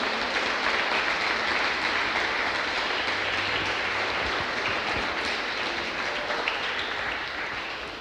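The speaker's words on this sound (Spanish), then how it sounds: "Démosle un aplauso a nuestro Señor Jesucristo." A church congregation applauds in a dense, sustained wash of clapping that holds steady throughout and fades slightly near the end.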